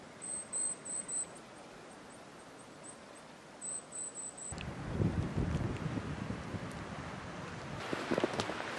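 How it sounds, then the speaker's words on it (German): Icy wind sweeps across a snowy, below-freezing landscape, a steady broadband rush that swells and gusts louder in the second half, with faint chirping tones early on. "Und dazu geht noch ein eisiger Wind."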